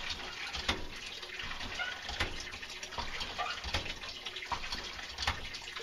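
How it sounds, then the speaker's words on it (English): A hand pump at an off-grid woodland camper pours water into a small basin in a steady splashing trickle, broken by recurring pulses and faint clanks as the pump is worked, fairly quiet and close. "Each pump of this is about 8 ounces of water"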